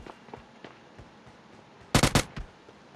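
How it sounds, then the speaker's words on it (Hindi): Gunfire in the PUBG Mobile game on the Livik map: a quiet stretch of faint taps, then a tight loud cluster of three or four sharp shots near the end, with a softer one trailing after. "सो गाइस वो बार बार वहाँ से गन साउंड कर रहा है"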